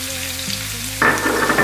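Onions tipped into a pan of frying lamb set off a sudden loud sizzle that jumps over the steady hiss of the pan and keeps going, with no talking.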